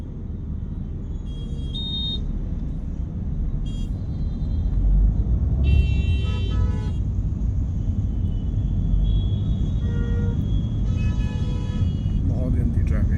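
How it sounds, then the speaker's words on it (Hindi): Heavy urban road traffic rumbles continuously while someone talks, with several short car horn toots scattered through and a louder burst of horns near the middle. "बहुत गंदी ट्रैफिक है।"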